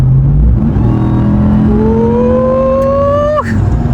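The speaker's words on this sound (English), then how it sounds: "I hope you guys can hear the supercharger whine" Supercharged Ram 1500 TRX pickup accelerating hard, a loud steady engine roar topped by a rising supercharger whine that climbs in pitch for about two seconds before cutting off abruptly near the end.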